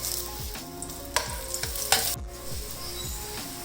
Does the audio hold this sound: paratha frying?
yes